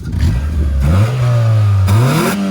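The engine of a cheap used car, a Honda Civic or Ford Mustang, revs up loud and close, climbing, holding steady and then rising again in pitch, with a rough, clattering tone.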